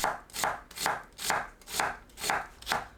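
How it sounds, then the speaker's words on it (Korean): A knife chops an onion into thin strips on a cutting board, six evenly spaced crisp thuds in a steady rhythm with no talking. "양파를 짧게 채 썰어줍니다."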